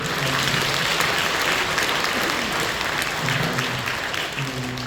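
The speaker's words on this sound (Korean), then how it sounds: "박수 한번 주세요." A church congregation applauds the worship band during a Sunday service, a loud, full, sustained round of clapping that stays even from start to finish, with faint voices underneath.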